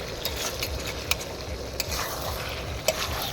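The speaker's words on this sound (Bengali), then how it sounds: "কষানো হচ্ছে মাংস" Mutton being stir-fried kosha style in a pan, a steady close sizzle and frying hiss with occasional sharp clicks of a spatula scraping the pan, no voices.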